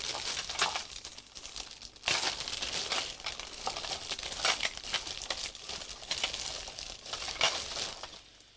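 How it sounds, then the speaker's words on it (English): A plastic bag full of found craft bits crinkles and rustles continuously as a hand digs through it, close and steady with frequent sharp crackles and no talk. "I have a whole plastic bag full of stuff that I found."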